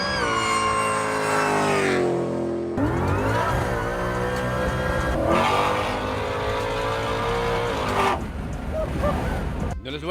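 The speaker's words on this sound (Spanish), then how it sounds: "¿Y qué le puedo decir del sistema de escape? Ya que tiene un diseño bastante único" A Dodge Ram Demon four-door pickup truck accelerates hard, its exhaust roaring loud and close with rising engine pitch through repeated gear changes, and brief lulls between pulls.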